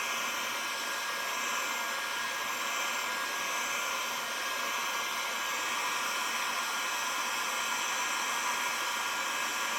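A hair dryer blows steadily, drying white glue on a handmade miniature pine tree, a loud constant broadband whoosh that holds for the whole stretch without a break.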